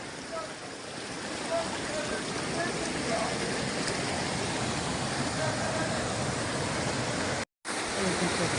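A waterfall in a canyon on a hiking trail, heard as a loud, steady, broadband roar of falling water filling the whole scene, with one brief dropout near the end.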